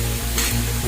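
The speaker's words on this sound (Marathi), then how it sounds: "परतून घ्यायचं।" Bitter gourd stir-fried in an iron pan gives a dense, continuous sizzle, close and loud, with soft scraping stirs throughout.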